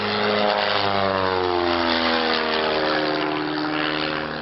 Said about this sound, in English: 200 horsepower Lycoming engine